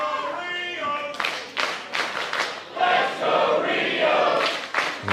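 Wrestling crowd in an arena cheering and clapping for Rhio, scattered claps and a swelling roar of fans heard under a commentator's voice.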